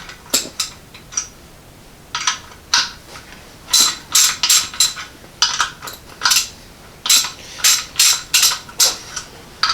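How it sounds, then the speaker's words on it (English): A 7/16 wrench backing out brass gas orifices on a 60,000 BTU heater gives close, loud bursts of metallic ratcheting clicks and clinks in irregular groups, with short pauses between them. "So first thing we're going to do is get a, looks like 7/16 wrench, back all these orifices out"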